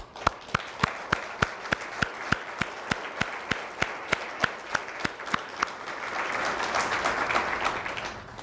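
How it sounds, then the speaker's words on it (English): Audience applause at a donor appreciation dinner, a crowd clapping steadily with a few sharp, regular claps standing out, swelling into a fuller burst toward the end. "I just want to give you a round of applause for that."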